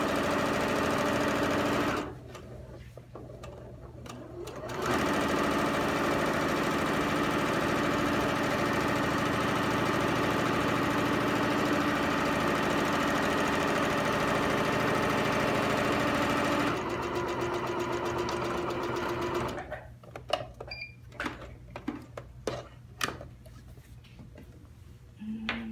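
Sewing machine stitching a pillowcase runs in a steady, close mechanical whir for long stretches, pausing briefly near the start and stopping near the end, where a few light clicks and handling sounds follow.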